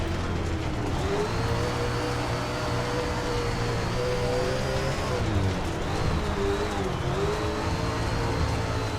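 Dirt late model race car engine in the video game SRX at Sheep Mountain: a loud, steady high-revving roar holds throughout, its pitch rising and dipping slightly as the car works through the track, with other cars droning nearby.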